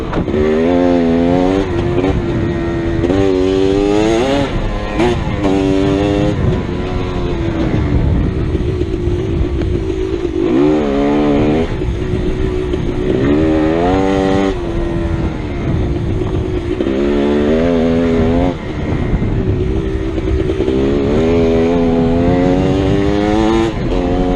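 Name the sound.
GasGas EC300 dirt bike riding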